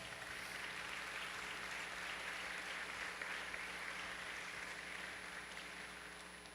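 Audience applause at an enlistee recognition gala, a sustained, even wash of many hands clapping in a large room, faint and distant, slowly fading toward the end.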